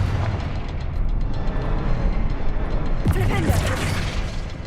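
A Confringo blasting spell bursts in Hogwarts Legacy, with a sharp explosive crack near the end over a dense, rumbling bed of game sound.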